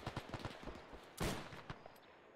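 Gunfire in an Arma 3 milsim battle for Henderson Field: a rapid string of close shots in quick bursts, then a heavier blast near the middle followed by a few scattered shots and a fading tail, with no talk.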